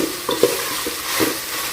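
Onion, ginger garlic paste and tomato sauté in a pan for veg biryani, a soft continuous sizzle broken by a few scraping stirs of a spoon, close and moderately quiet.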